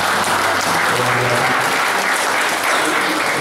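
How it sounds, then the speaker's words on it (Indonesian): A room full of sales and marketing trainees applauds at a training session, loud continuous clapping with a faint tonal hum beneath, sustained evenly throughout. "Tepuk tangan dulu buat Anda semua."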